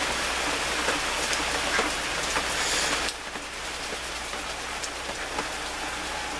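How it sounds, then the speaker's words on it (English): Steady rain coming down outdoors, a dense even hiss of drops on surfaces, louder for the first half then settling to a slightly softer continuous patter. "Yeah, it's raining, you're really coming down now, as you can hear."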